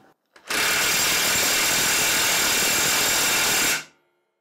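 A Parkside PASSK 20-Li cordless impact wrench hammers in one loud, continuous burst of rapid impacts lasting about three seconds, close up, starting and stopping abruptly.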